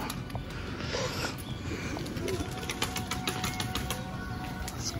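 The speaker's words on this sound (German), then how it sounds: "Ja, vier Tauben." Pigeons coo at a bear park, a steady low burbling murmur running throughout with scattered clicks and outdoor background noise, fairly close and moderately loud.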